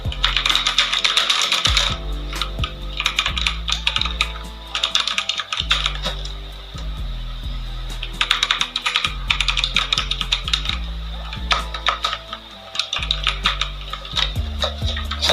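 Steady bursts of clicky keystrokes from an NYK Nemesis Helens MKN-06 mechanical keyboard, close and loud, typed in quick runs with brief pauses between them.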